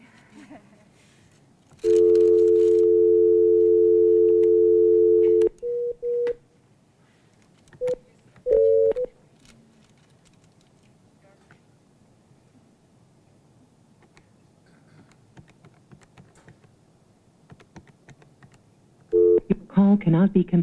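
Telephone line dialed for a conference call during a board meeting: a steady dial tone for several seconds, then short bursts of dialing tones, ending in a brief run of tone signals, with faint room sounds between.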